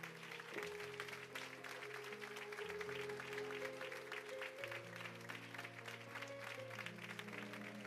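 A church congregation claps along during a Sunday service, steady clapping continuing for the whole stretch while sustained organ or keyboard chords play loudly underneath.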